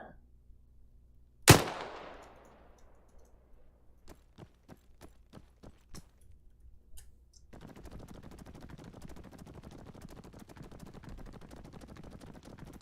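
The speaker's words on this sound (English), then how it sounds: "the third chevron hits the horizon and fire" A shotgun fires once in Arma 3 with the CUP mod during an ammo range test, a single loud close blast with a sharp decaying tail, followed by faint distant impact clicks and steady background noise.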